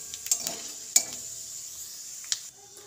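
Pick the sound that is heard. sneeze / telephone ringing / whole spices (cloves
whole spices (cloves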